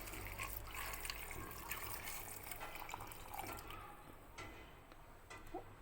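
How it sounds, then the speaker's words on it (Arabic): Water poured into a pot for fish soup gives a faint, continuous splashing gush that trails off toward the end, with a low hum beneath. "غنزيد عليها الماء طايب"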